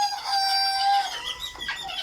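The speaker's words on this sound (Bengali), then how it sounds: "এই যে আমাদের বাচ্চাগুলো দেখতেছেন এগুলো অরিজিনাল মিশরি ফার্মে মুরগির বাচ্চা" Original Egyptian Fayoumi chicken chicks peeping on a farm, several high thin cheeps overlapping in quick bursts, close and clear with no talk.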